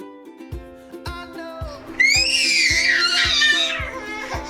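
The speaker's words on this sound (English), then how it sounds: "he actually just stands at the bottom of the stairs screaming at me, which you will see here in a second" A toddler screams at the bottom of the stairs, loud, high and drawn out, while steady rhythmic thumps and a tonal background run underneath.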